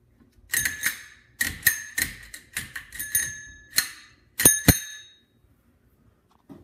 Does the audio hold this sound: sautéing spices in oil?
no